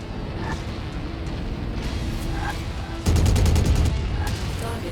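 Mech machine guns in MechWarrior fire a rapid, steady burst of rattling shots, loud and close, over a low rumbling engine drone, with a few softer distant impacts beforehand.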